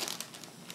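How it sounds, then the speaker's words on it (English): Thin plastic bag crinkles and rustles softly at close range in a short, quiet burst of crackling. "put it in the plastic bag"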